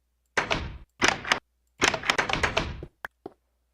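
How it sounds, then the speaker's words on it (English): Blocky mechanical thunks from a redstone-powered door in the video game Minecraft, a few short, fairly loud clattering bursts in quick succession followed by two small clicks, with no talking. "when that block is powered, this door opens"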